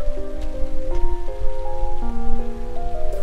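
Rain falling steadily in The Legend of Heroes: Trails of Cold Steel, a continuous loud patter and hiss on the ground, with soft sustained background music chords shifting on top throughout.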